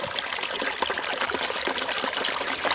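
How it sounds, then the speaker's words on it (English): Water flows steadily from a drain pipe at a beaver pond, a close, continuous trickling and gurgling stream with no voices. "It's a drain pipe right here. The water is flowing."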